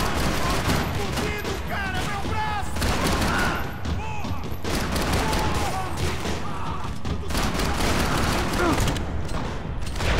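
Gunfire in the video game Max Payne 3, bursts of shots and heavy thuds over game noise while someone talks over the action throughout.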